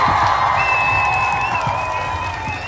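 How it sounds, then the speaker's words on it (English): An audience gives applause and cheering for a group of children at a community gathering, with a steady wash of clapping, shouts and a sustained whistle-like tone continuing throughout. "Give them a round of applause."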